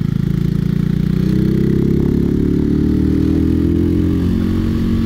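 A Mutt Motorcycles DRK engine runs loud and close while riding, a deep, throbbing single-cylinder drone that holds steady with a slight rise in pitch, with no talking.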